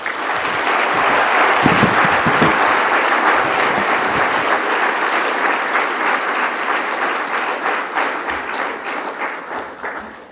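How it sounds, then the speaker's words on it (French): An audience at a speech in Burkina Faso breaks into sustained, loud applause, many hands clapping together in a dense roar that slowly thins and fades toward the end. "mais à travers des acclamations bien nourries"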